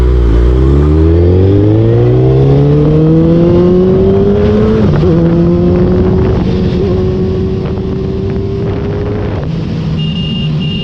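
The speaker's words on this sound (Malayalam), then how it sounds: "1340cc inline 4 cylinder liquid cooled എഞ്ചിനാണ് ഈ ഒരു ബൈക്കിന് കരുത്ത് നൽകുന്നത്." A Suzuki Hayabusa's 1340cc liquid-cooled inline-four engine revs loudly up close, its pitch climbing smoothly, then holding at a steady high drone with brief dips. Wind buffets the recording.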